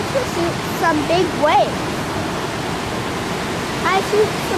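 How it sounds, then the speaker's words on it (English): Big ocean waves surging as a loud, steady roar of surf, with people talking over it and a few higher calls or whistles. "I see some big waves"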